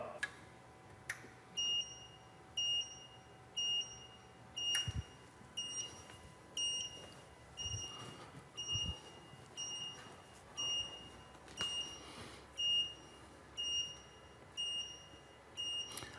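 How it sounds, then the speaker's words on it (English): A calibration tool buzzer during ADAS calibration of a 2024 Jeep Grand Cherokee 4xe, repeating short electronic beeps at a steady rhythm about once a second with faint background clatter, no talk. "Press and hold the button for 2 seconds and the buzzer will sound."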